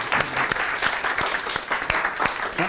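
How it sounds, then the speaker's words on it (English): A meetup audience at Agile Yorkshire claps for volunteers at a talk, with dense, steady applause close by and no talk over it, lasting a few seconds. "Big round of applause to the volunteers"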